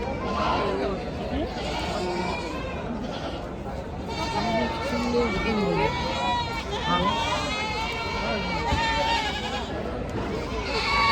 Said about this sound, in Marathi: एकदम मोठ्या मापाच्या शेळ्या आहेत सगळ्या.